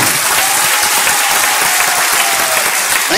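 A hall audience at an achievers' event in Varanasi claps loudly and continuously, a dense steady wash of many hands with no pauses.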